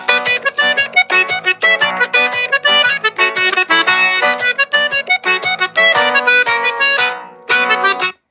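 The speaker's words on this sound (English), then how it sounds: "So the first jig would be the most traditional jig. It's called a light jig." A traditional Irish light jig played on a bright melodic instrument, with quick, steady notes in a lilting rhythm, loud and close, with a short pause near the end.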